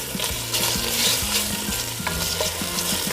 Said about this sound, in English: you can kind of hear in the background the pork going